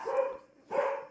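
A dog barks twice close by, two short separate barks with a brief pause between them, heard on its own with no talk, at a house in Australia.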